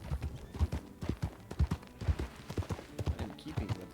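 Horse hooves galloping in Red Dead Redemption 2, a steady run of loud, close clip-clop beats with a low thud on each footfall, continuous throughout.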